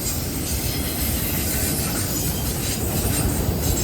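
Freight train of autoracks from mixed railroads such as Union Pacific, Norfolk Southern, BNSF, CN and CSX rolling past close by, a loud, steady broadband roar of wheels and rattling cars with no pauses.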